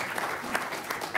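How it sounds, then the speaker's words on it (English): An audience applauds at a financial talk, a short burst of steady hand clapping from a crowd, moderately loud and even throughout. "let's give her a big round of applause because I think she does an incredible job"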